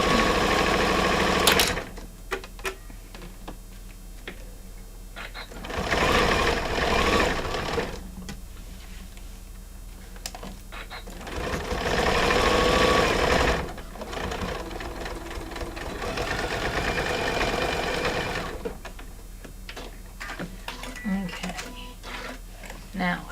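A sewing machine stitches a bag with metal D-ring hardware, running in several bursts of steady mechanical whirring and rapid clatter, with quieter handling gaps between runs.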